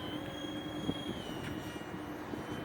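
A Dynam Turbojet 550 RC jet, a Cessna Citation II scale model, makes a low pass with the throttle off, giving a steady, moderately loud whine and airy rush that holds throughout with no voices.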